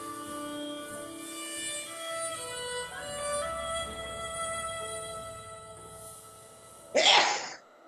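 A single sharp sneeze bursts out near the end, following several seconds of quiet sustained tonal sound.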